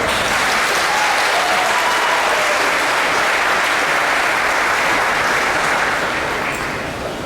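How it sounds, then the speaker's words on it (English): Graduation audience at a high school ceremony giving a loud, sustained round of applause for the parents, thick and even throughout and easing off slightly at the end, with no talk over it. "Please give your parents a round of applause."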